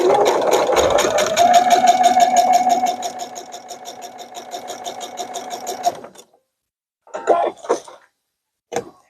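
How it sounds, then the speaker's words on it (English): A sewing machine stitches a seam with about a 3/4 inch allowance, whirring loud and steady up close for several seconds, then stopping, followed by a few short bursts of stitching. "Back to the sewing machine. This time you're going to do about a 3/4 inch"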